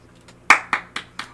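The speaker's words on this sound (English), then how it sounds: "Clap, assholes, clap" A few people on a casual podcast clapping for special guests, four separate sharp hand claps close to the microphone, each a little softer than the one before.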